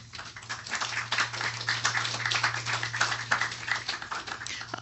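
An audience at a lecture event applauds with dense, steady clapping that lasts the full few seconds over a low constant hum.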